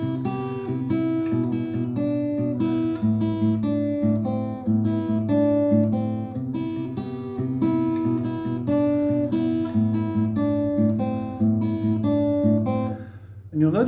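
An acoustic guitar is fingerpicked with the thumb and first finger, playing a song as a steady, continuous stream of plucked notes and bass tones, close and clear, with no voice.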